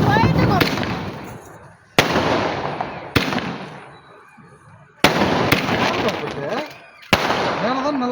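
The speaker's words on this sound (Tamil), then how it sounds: "மேலதான் நல்லா வெடிக்குது." Fireworks and firecrackers exploding nearby, with several sharp loud bangs at irregular intervals, each followed by crackling, hissing bursts that fade out, while voices are heard underneath.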